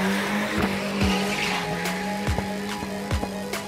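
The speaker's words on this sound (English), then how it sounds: "today we're doing some drifting" A Volvo 940 Turbo drift car slides with tires squealing in long, loud screeches, the engine droning underneath and several sharp skid bursts in a row, close and with no talking.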